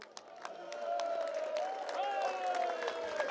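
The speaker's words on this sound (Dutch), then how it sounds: "Een applaus voor die mensen." Applause for the business club at a DVS'33 Ermelo football club championship celebration in the 2014/2015 season, a moderate, steady patter of clapping from a gathered crowd with a few scattered cheers, fairly distant and continuous throughout.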